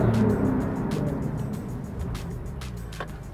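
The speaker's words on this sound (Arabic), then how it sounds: "فعلا صوت السيارة رائع." A 2018 Porsche 911 Targa 4 GTS on a drive, heard as a muffled, quiet engine and road rush that stays even and broad, with a few faint clicks and no clear speech.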